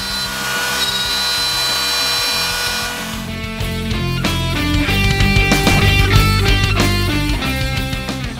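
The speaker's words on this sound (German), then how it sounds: "dafür nehmen wir uns jetzt hier unser Gegenstück und fräsen eine 6 cm Nut auf" A wood router cuts a 6 cm groove into both sides of a wooden board for a homemade advent calendar, a loud, steady whine with shifting tones and rough cutting noise building toward the end, with no voices.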